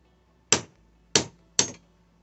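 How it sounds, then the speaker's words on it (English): Three sharp metallic hammer taps on a punch driving out the shaft of a hydraulic roof lock cylinder from a Mercedes-Benz SLK 350, spaced unevenly, each ringing briefly in an otherwise quiet room. "And I'm just gonna tap it until the shaft comes out slowly."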